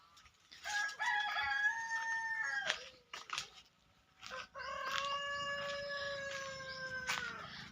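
A rooster crows twice in long, drawn-out calls, loud and close, with faint clucking from hens that have just laid eggs and farmyard sounds between the crows.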